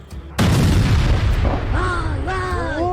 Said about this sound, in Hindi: आसमान से जैसे ही बम बरसा, वैसे ही देखिए जमीन पर कितना बड़ा धमाका हुआ है।